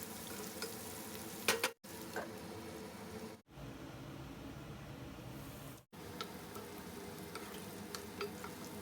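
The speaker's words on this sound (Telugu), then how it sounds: "ఆనియన్స్ని గోల్డ్ కలర్లోకి వచ్చే వరకు ఫ్రై చేసుకుందాము" Onions with a sprig of curry leaves frying under a lid in a pan, a soft, steady sizzle with faint crackles that drops out briefly a few times, quiet and close, with no talk.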